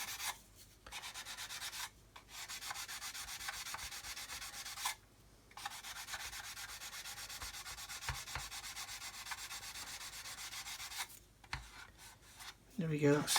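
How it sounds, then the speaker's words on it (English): Hand sanding on a plastic scale model kit of a Buccaneer (Buff) aircraft: repeated rasping strokes rub back and forth in long bursts with short pauses between, close and moderately quiet. "I just want to just do some more sanding there actually"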